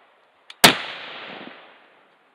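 A Browning X-Bolt rifle in .280 Rem fires after a delayed ignition: one sharp, loud report with a short echoing tail, preceded by a faint click.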